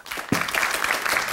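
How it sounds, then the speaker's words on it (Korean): A studio audience on a Korean TV storytelling show claps in a dense, loud burst of applause for a storyteller, brief and close. "박수로 환영해 주시기 바랍니다"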